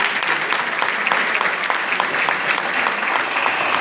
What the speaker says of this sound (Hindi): आप जोर से ताली बजा के अभिनंदन करो हमारे बच्चे का